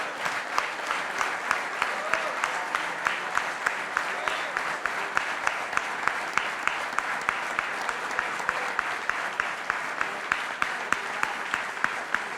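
Church congregation applauding together, a dense, steady wash of many hands clapping that holds evenly throughout with crisp individual claps standing out.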